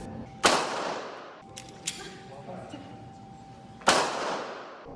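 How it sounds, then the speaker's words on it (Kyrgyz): Shotgun shots ring out one at a time at an outdoor sport shooting range during a clay target event, with two loud reports and a fainter shot between them, each echoing briefly over a low background. "Мына сиздер көрүп тургандай кезек менен алар ок атып жатышат."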